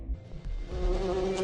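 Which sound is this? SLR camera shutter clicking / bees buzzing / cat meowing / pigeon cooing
bees buzzing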